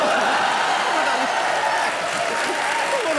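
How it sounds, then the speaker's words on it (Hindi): Sustained studio audience applause and cheering on an Indian comedy talk show, a dense steady wash of clapping that stays loud and even throughout. "ठोकताली"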